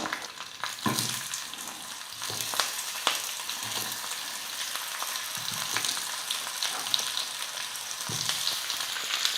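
Slices of raw plantain fry in oil with mustard seeds and curry leaves, giving a steady close sizzle with occasional scrapes and clacks of a stirring spoon, and no voices.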